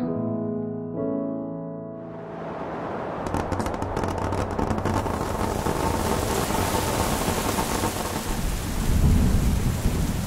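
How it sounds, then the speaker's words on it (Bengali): Heavy monsoon rain with a rolling thunderclap, a deep rumble building into a loud crack, then a dense, steady downpour hammering on surfaces, alone without voices. "একদিন সকাল থেকেই প্রচণ্ড বৃষ্টি হচ্ছিল।"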